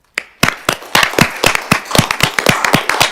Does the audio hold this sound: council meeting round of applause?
yes